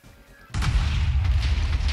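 A cannon fires in Minecraft Factions: after a quiet moment a single sudden loud boom bursts out and rolls on as a sustained rumbling blast through the rest of the clip.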